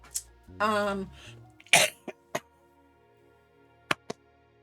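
A single sharp cough at close range, followed by a few short throat noises and clicks in an otherwise quiet room, with a voice briefly heard.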